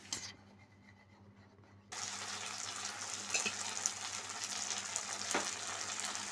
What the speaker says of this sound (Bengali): এবার সব কিছুকে আমার ভালোভাবে নাড়িয়ে নিতে হবে